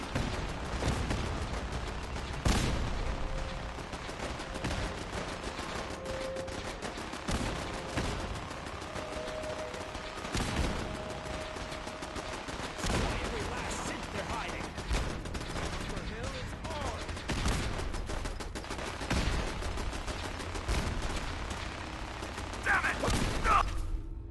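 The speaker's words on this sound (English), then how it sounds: "I'm hit! Taking fire!" Gunfire in a Fallout 4 firefight: bursts of shots and rapid automatic fire crackle throughout, loud and close, over a dense background of game noise, with character voices shouting in between.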